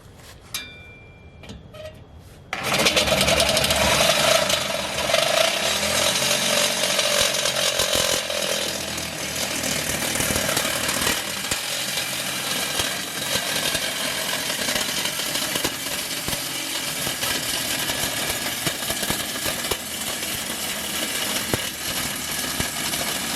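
A loud power saw starts up abruptly and grinds steadily through a Duramax diesel exhaust pipe, cutting it into 3-inch sections with a harsh, continuous buzz that shifts slightly under load.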